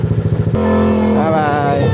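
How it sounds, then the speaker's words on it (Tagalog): A loud motorcycle engine idles and rumbles close by, its low steady drone shifting in pitch as the throttle changes, with a brief clatter near the start. "Napakaingay ng motor."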